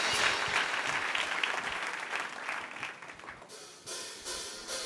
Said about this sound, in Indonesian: Kasih tepuk tangan untuk Elmi dan timnya.